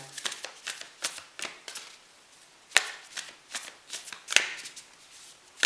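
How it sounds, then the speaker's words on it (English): Oracle cards being shuffled in the hands, a run of quick riffling bursts and crisp slaps in an uneven rhythm, close and clear with no talk. "So I'm going to pull some oracle cards for you as well"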